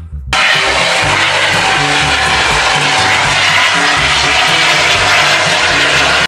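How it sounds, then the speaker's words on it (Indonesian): Loud electronic sound effect from a toy helicopter, a steady droning engine whine with a repeating low mechanical pattern that starts suddenly and runs unbroken for about six seconds, no voices. "Wow, ada pesawat helikopter."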